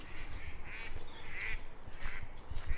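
Park ducks stirred up by dogs, quacking and honking repeatedly in a busy, overlapping chorus at close to middling distance, with no talking over them.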